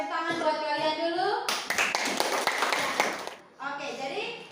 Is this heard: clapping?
yes